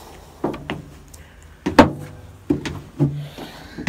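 A heavy metal-fronted narrowboat door is handled with several sharp clunks and knocks, followed by a metallic rattle and thuds at irregular intervals, close by.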